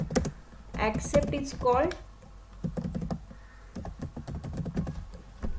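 Quick bursts of keystrokes on a computer keyboard as code is typed, close and clicky, coming in short runs between a man's spoken words.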